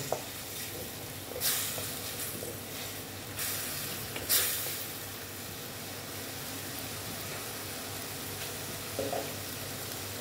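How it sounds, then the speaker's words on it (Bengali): Spice paste with a little water frying in a pan for aloo dum, a soft steady sizzle with a few brief louder bursts of hiss, close and alone without talk. "একটু জল অ্যাড করব, একটু সামান্য, করে এইবার আমি মশলাটাকে ভালো মতন কষিয়ে নেব।"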